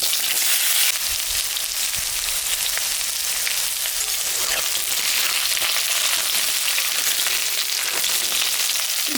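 Potatoes and pointed gourd fry in a pan of oil with dried red chilli and cumin, giving a steady, loud sizzle that continues with faint stirring.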